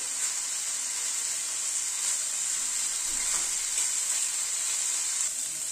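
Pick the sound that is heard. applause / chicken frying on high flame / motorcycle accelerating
chicken frying on high flame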